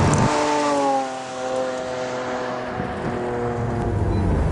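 A 2012 Lamborghini Aventador's mid-engine V12 revs loudly and close on a test-track skid pad, its harmonic engine tone climbing and holding steady throughout with no voices.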